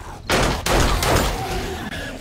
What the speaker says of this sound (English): So even though this is only a level 1 pistol,